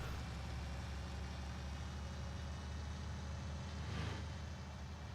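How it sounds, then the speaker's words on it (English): Truck engine in Farming Simulator 19 working under load, a steady low droning hum with a slightly whiny edge that holds at a constant level throughout. "It sounds like the sound for this truck's changed when it's under load."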